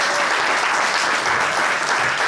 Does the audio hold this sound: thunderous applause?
yes